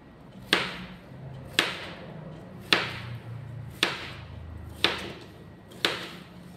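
A kitchen knife chops mixed vegetables for a salad on a cutting board, six crisp, evenly spaced knocks about a second apart, close and clear over a quiet room.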